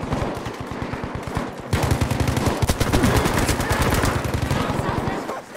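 Rapid automatic gunfire from a Battlefield multiplayer match, a steady stream of sharp shots that grows louder and denser partway through, with voices talking underneath.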